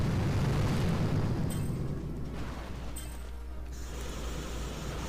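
Gunboat barrage pounding an enemy base core in a stronghold assault video game, heavy rumbling explosions that swell loudly at first and then fade into a lower sustained roar.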